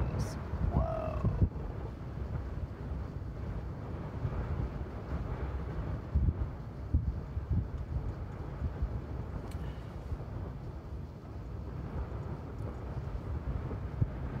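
Strong wind blowing outdoors, a continuous low roar buffeting the microphone with gusts swelling and easing throughout, loud and close.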